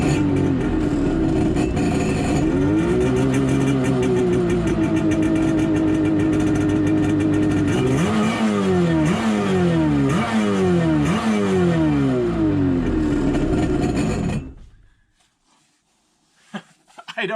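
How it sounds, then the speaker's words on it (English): A car engine that has just been repaired idles steadily, then is blipped in a run of rhythmic revs. It is close and loud, and it cuts off abruptly near the end, leaving brief quiet. "But it idles. The engine sounds good. It's starting fine."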